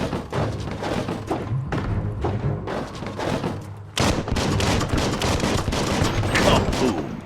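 Gunfire and thudding blasts in the video game Biomutant as a barrel is shot near a gate, with rapid bursts of shots throughout and a louder explosive burst midway.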